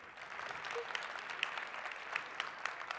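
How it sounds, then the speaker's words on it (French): An audience claps at a lecture, a soft, fairly distant patter with a few sharper claps standing out, steady for about three seconds with no voices over it. "oui, vous pouvez les applaudir."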